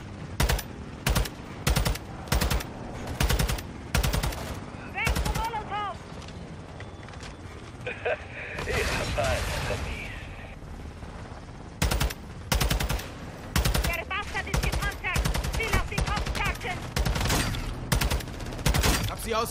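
Machine gun fire in Call of Duty Modern Warfare II, repeated loud bursts in an irregular rhythm, with a quieter stretch partway through where a game voice speaks under ambient noise.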